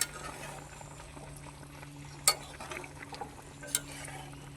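Soft bubbling and stirring of soybean curry with ghee in a pan, a low steady simmer broken by a couple of sharp spoon clinks against the pan.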